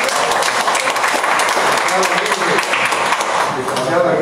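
An audience at a library poetry event breaks into steady, dense applause, close and loud throughout, with some voices mixed in.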